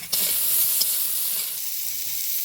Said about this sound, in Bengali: তারপরে আলুটা ভাজছি